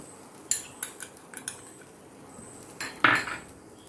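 A lid going onto a pan holding a homemade pizza cooking on a dosa griddle: a handful of sharp metallic clinks and clatters, near and fairly quiet, with a louder clank toward the end.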